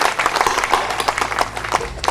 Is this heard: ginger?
no